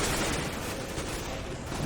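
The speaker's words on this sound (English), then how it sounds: "It's just wall banging actually all back and forth" Dense, continuous gunfire in a Counter-Strike match on the Overpass map, with rounds shot back and forth through walls as a steady noisy burst across the whole moment, with little else audible.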